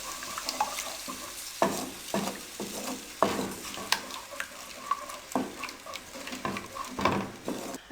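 Eggs frying in oil in a pan for Chinese rice: a steady sizzle broken by sharp scraping stirs and clanks of a utensil against the pan, close and moderately loud, with no voices.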